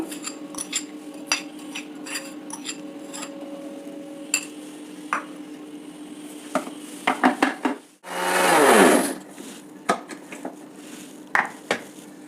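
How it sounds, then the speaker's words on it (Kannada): A mixer grinder whirs in one short, loud burst as it blends a jaggery and sesame filling for holige, with its tone falling as it runs, set among lighter clinks of utensils and kitchen handling before and after. "ಬೆಲ್ಲ ಸೇರಿಸ್ಬಿಟ್ಟು ಇನ್ನೊಂದು ಸಲ ಮಿಕ್ಸಿ ಮಾಡಿಬಿಡೋದು"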